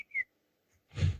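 A person whistles a short falling tone that imitates a droid dying in the game Star Wars: The Old Republic, followed after a pause by a brief breathy puff, close and otherwise quiet.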